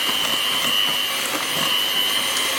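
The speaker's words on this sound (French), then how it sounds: "je vais mélanger avec le batteur pour détendre donc le mélange" An electric hand mixer beats egg whites into a sponge cake batter with a steady, close, high whirring drone that holds constant throughout, with no talking.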